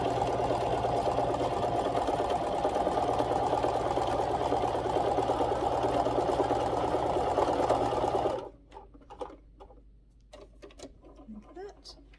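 Sewing machine stitching a pet Christmas stocking: a steady, close mechanical whir runs for about eight seconds and then stops, leaving quiet room sound with faint handling noises.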